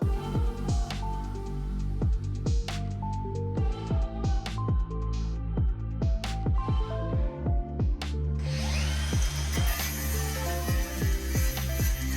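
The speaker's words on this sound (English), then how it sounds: "just cut the shit out of some fiberglass" A power tool whines and revs in repeated bursts while cutting into the fiberglass roof of a chopped Blazer top, loud and close, with a harsher grinding rush toward the end.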